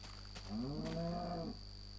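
A cow moos once in the video game Minecraft, a drawn-out, wavering low call of about a second, clear and fairly close over a steady background hum.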